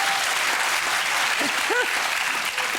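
Studio audience applauding on a television comedy show, steady sustained clapping filling the whole stretch at moderate loudness, with a voice faintly speaking over it.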